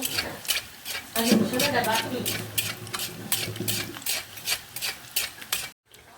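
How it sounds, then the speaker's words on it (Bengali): Puri frying in oil in a home kitchen, with a steady crackling sizzle and repeated scraping and stirring strokes of a utensil against the pan, close and fairly loud, with faint voices in the background. "এই যে এখানে পুরির ভাজাভাজি চলতেছে।"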